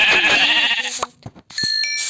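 A Minecraft sheep gives a loud close bleat, followed by a few short chimes and clicks from the game, with no talk over it.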